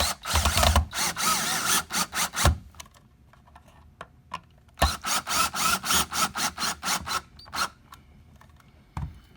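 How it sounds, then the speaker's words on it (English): A screw gun drives screws fully down while fitting a weatherproof box and cover for a gas burner install: several bursts of whirring near and loud, in two clusters separated by a quieter pause with small clicks. "Then I'm going to take a screw gun and run them all the way down."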